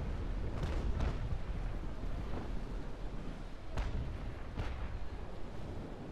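Ship cannons fire at enemy sails in the naval video game Naval Action, giving about five separate booming shots spread irregularly over a low, rumbling background.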